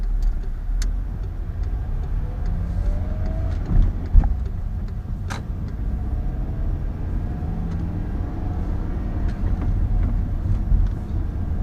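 A VW Tiguan engine idles steadily without revving, a continuous low rumble with a few brief irregular knocks and stumbles from misfires breaking through.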